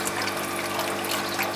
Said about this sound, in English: the water is coming out these other little holes